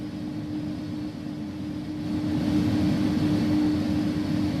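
Simulated iniBuilds A300F UPS freighter jet engines in X-Plane 11 spooling up on the ground, a steady tonal whine over low rumble that grows slightly louder, moderately faint and without talk.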